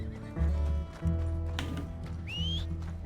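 A horse in Red Dead Redemption 2 clip-clops and then lets out a sharp, rising whinny, both close and loud over a low game soundscape.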